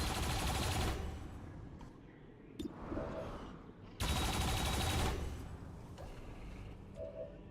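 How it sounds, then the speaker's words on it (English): Dense bursts of automatic gunfire in a turn-based XCOM 2 battle against zombies, two long loud volleys separated by quieter thuds and game effects, heavy and close, with no talk over them. "let's just take the shots at the zombies"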